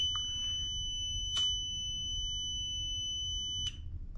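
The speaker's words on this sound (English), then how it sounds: "Still beeping." A fan coil unit that is not heating or cooling sounds a steady, piercing electronic beep that holds unbroken across the whole stretch, over a low background hum with a couple of brief clicks.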